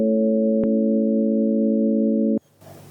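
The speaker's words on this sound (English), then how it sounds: "We're going to transform that voltage into a sound." Electrical voltage from brain tissue is turned into sound as a loud, steady electronic tone with one brief click partway through. It stops abruptly and leaves faint background hiss.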